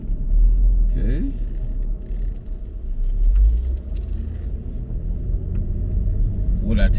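A 2013 Chevy Equinox, burnt and bought at salvage auction, rolling along a road with a low steady engine and road rumble inside the cabin while someone talks over it.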